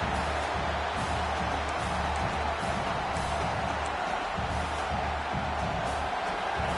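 Stadium crowd at a college football game, Oregon facing Penn State, roaring in a steady, full-throated wash of noise that fills the whole stretch without letup.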